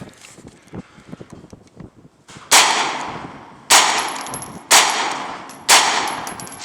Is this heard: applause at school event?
no